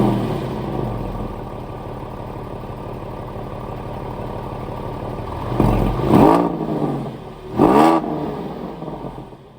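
A Porsche 911 997.1 engine idles with a steady rumble, then two sharp revs swell loudly near the end, close by and with no voices.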